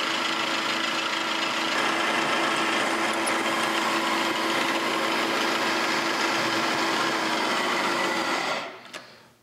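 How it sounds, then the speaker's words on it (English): A power drill with a quarter-inch bit grinds steadily through forged steel for several seconds, a continuous high whine that cuts off abruptly near the end. "Got a 1/4 inch drill bit in here."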